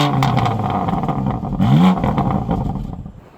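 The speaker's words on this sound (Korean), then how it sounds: "확실히 스포츠 플러스에서는 굵은 팝콘이 또 튀기는 소리가 들리네요." A 2019 BMW M2 Competition with its 3.0 engine in Sport Plus mode, heard from the rear, revs hard with a deep, rough exhaust note, crackling pops, and a sharp blip before the sound dies away.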